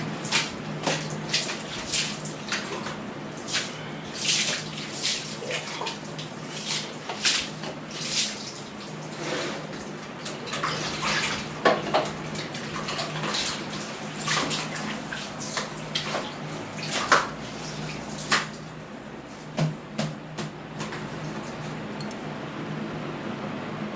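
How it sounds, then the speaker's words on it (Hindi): Soapy foam scrubber working over a greasy kitchen chimney filter, giving repeated wet squishing and scrubbing strokes with drips and splashes of water, close and steady in an irregular rhythm with no talk. "बेसिकली ये स्क्रबर है, एक फोम टाइप होती है तो उसमें ये साबुन अच्छे से लगा के और फिर फ़िल्टर को अच्छे से साफ़ करेंगे"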